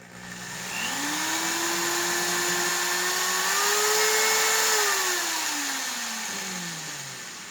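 Power drill boring drainage holes in plastic buckets, its motor whine rising as it spins up, holding steady, then winding down, loud and close with no talking.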